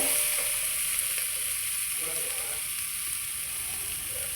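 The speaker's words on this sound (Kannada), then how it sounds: "ಚೆನ್ನಾಗಿ ಫ್ರೈ ಆದಮೇಲೆ ಸ್ವಲ್ಪ ಖಾರದ ಪುಡಿ ಹಾಕಿ ಫ್ರೈ ಮಾಡಬೇಕು." Spices sizzle in hot oil as chili powder is fried for a coconut vegetable palya, a steady close hiss and crackle with faint stirring throughout.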